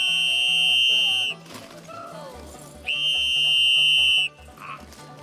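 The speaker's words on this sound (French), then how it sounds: "on entend le coup de sifflet. C'est le coup de sifflet alors pour manger." Two long, piercing whistle blasts sound to call workers to their midday meal, each holding steady for over a second with a short gap between, over a busy outdoor background of rhythmic croaking and low noise.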